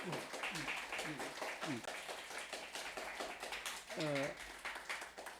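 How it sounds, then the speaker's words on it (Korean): Church congregation clapping together during a worship service, a steady patter of hands heard under an ongoing voice and brief vocal sounds, fairly close and moderately loud throughout. "일단 우리 한기창 집사님 박수 한번 하십시다."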